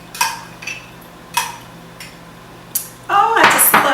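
A spoon scoops sour cream into cake batter, giving a few sharp clicks and taps against the bowl at spaced intervals, then a louder stretch where a voice speaks over clattering.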